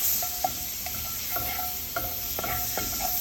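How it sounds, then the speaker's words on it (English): Butter sizzles in an already hot pan with shrimp while a utensil stirs and scrapes at a steady rhythm, several distinct clicks repeating over the continuous close hiss. "we're going to add 1 more tablespoon of butter to that already hot pan"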